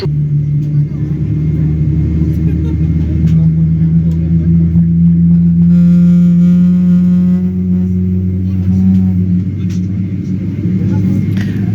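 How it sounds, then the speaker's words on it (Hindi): PIA airliner engines spinning up on the ground before departure from Islamabad to Karachi, a loud steady low rumble and whine that holds throughout, heard from inside the cabin. "Both engine has been started. दोनों इंजन स्टार्ट हो गए हैं"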